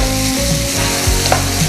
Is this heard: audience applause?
no